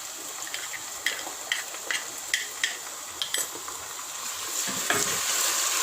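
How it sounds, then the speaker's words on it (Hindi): Garlic ginger paste hits frying onions in a pot for chicken haleem, giving a steady sizzle with a regular series of spoon scrapes and taps as it is stirred. "अब इसमें लहसुन अदरक का पेस्ट डाल देते हैं।"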